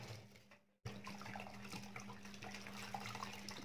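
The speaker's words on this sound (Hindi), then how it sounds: "ऊपर ठंडा पानी डालना होगा" Cold water poured over blanched vegetables for a Russian salad: a soft, steady gush of running water that starts abruptly after a brief silence and continues evenly, faint and close.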